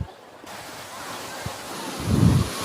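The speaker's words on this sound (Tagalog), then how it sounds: "Grabe yung buhos ng tubig" Flash-flood water rushes in a steady, broad roar, a continuous wash of noise with a deeper surge swelling near the end, heard from a short distance with faint voices in the background.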